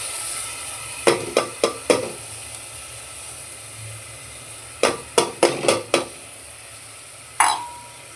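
A spoon clanks sharply against a pot in quick bursts of four or five strokes as masoor lentils and potatoes are stirred into a sizzling masala, over a low steady hiss of frying.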